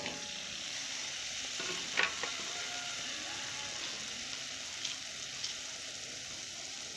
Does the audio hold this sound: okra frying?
yes